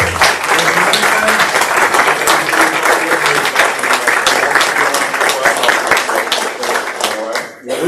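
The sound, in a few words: applause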